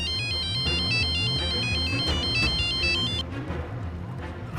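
A melodic electronic ringtone repeats its looping tune several times, loud and close, then breaks off near the end.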